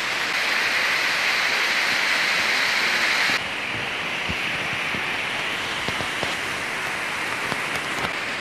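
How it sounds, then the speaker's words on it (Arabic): Jermuk waterfall in Armenia, partly frozen after recent snowfall, roars as a dense, steady broadband rush of falling water, loud and continuous with no voices. "هذا أكبر شلال في المنطقة؟"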